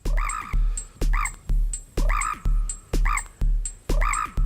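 A bird-call sample reworked with effects in an iPad music app repeats as a looped, rhythmic pattern of harsh caw-like bursts, about eight evenly spaced hits, loud and close with no talking.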